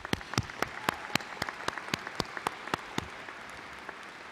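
Sparse, distinct claps from a few people in a large hall honoring college deans, faculty and staff at a community college commencement, evenly spaced and fading out near the end.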